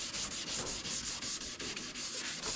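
Wet sanding with 400 grit sandpaper: a steady, close rhythmic scrubbing, each stroke a hissing rasp repeating about every fifth of a second with a short gap between passes, no voices.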